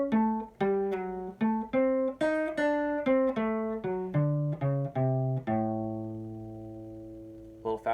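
A western swing lead guitar plays a 2-5-1-5 chord-tone line, clear separate plucked notes moving up then down before ending on a long ringing note, played alone and close.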